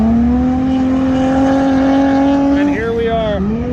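Race cars at the Grand Bend racetrack, near a drag racing event and skid pad, produce a loud, steady engine drone that shifts pitch near the end, with voices talking over it.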